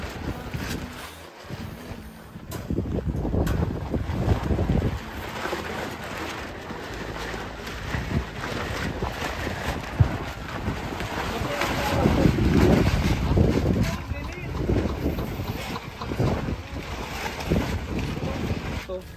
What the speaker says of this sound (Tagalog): Lakas ng hangin, no? Kanina pa ito, oh.